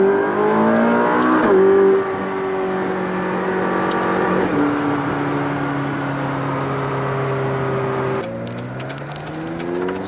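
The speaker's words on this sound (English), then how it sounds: "Put it in track mode, the instrument pinnacle changes, and suspension's hardest, the engine's the most responsive mode, and shift down and go for it." A 2018 McLaren 570S Spider in track mode revs hard with its engine, rising tones climbing through the gears with sharp shift breaks, loud and close inside the car.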